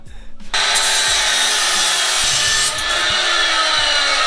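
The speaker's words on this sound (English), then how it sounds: "We're just gonna cut off a little bit of this bar" A metal bar is cut with a loud, continuous power tool, a harsh grinding hiss that starts abruptly and runs steadily without a break.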